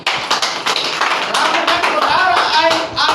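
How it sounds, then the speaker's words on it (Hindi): A crowd claps loudly and steadily at an Indian Inclusive Party gathering near Charbagh railway station in Lucknow, dense overlapping hand claps with voices mixed in. "इनके लिए जोरदार तालियां"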